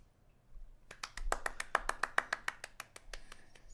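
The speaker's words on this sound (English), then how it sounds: "round of applause for my opponent today, Markiplier" A short run of about a dozen quick, crisp claps welcomes guest Markiplier, starting after a brief quiet, fairly faint and close, like a small group or single person clapping.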